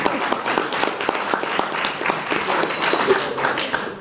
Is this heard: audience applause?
yes